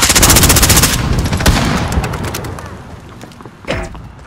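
Gunfire in a first-person shooter video game: dense rapid automatic bursts, loud and close at the start, then sparser scattered shots trailing off, with a sharp crack near the end.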